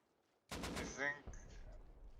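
Gunfire in a video game aimed at the player, heard as a sudden loud burst of rapid shots that starts after a short quiet pause and continues into a rough, noisy tail.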